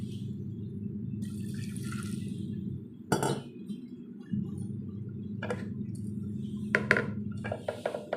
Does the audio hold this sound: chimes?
no